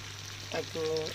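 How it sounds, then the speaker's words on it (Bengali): Fish frying in a pan makes a steady close sizzle, with a brief voice-like murmur in the background. "আর মাছ ভাজা করছি।"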